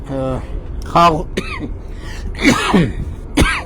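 Short bursts of coughing and throat clearing mixed with a man's speech, close and loud.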